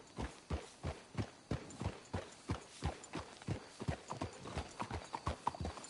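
Horses' hooves clip-clop in a steady, fairly even rhythm in the video game Red Dead Redemption 2, several sharp close hoof strikes per second continuing throughout at moderate loudness.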